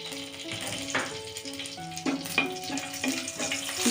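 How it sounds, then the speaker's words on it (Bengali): Dried red chillies and black cumin seeds frying in a little oil in a pan, a soft crackling sizzle with a few stirring clinks, close up under faint background tones, with no one speaking. "শুকনো লঙ্কাটা দিয়ে একটু ভেজে নেব।"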